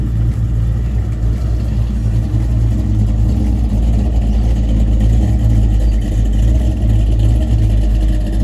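A Ford XW Falcon V8 engine rumbles loudly and continuously up close at an outdoor car show, with a throaty, slightly lumpy idle that swells a little as it revs.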